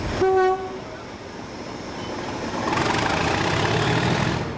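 A brief train horn blast opens, then a British Rail diesel locomotive engine roars and thrashes, growing louder and harsher as it works hard.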